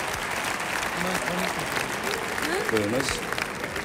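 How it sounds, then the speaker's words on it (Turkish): Studio audience applause on a Turkish TV entertainment show, sustained steady clapping from a crowd, with a host speaking over it near the end. "Biraz daha alkışlayalım."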